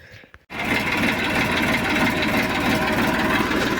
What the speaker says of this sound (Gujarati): તો હાલો આપણે જઈએ છીએ ટ્રેક્ટર બહાર કાઢવાનું